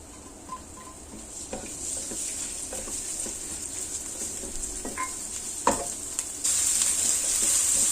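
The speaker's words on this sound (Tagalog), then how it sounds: "Igisa natin ang ating luya." Ginger sizzles in a hot pan, a steady soft frying hiss with occasional stirring clinks and taps, close and moderately quiet, the sizzle swelling louder toward the end.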